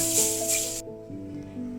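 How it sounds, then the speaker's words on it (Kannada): Hot oil tempering with cumin and curry leaves poured into avarekalu hasiru saaru, a green field-bean curry, giving a brief loud sizzle and hiss that cuts off suddenly, leaving a faint simmering crackle. "ಈಗ ಈ ಒಗ್ಗರಣೆನ ಹಸಿರು ಸಾರಿಗೆ ಹಾಕೋಣ."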